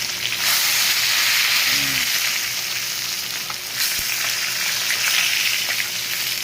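Tilapia frying in hot oil in a pan, a loud, steady sizzle with crackling bursts and a brief clink of a utensil, no talking.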